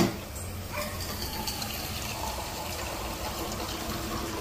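Two glasses of water poured into a cooking pot, a close, steady gushing pour that runs without a break after a brief first splash.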